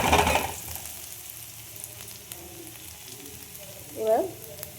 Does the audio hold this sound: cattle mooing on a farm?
no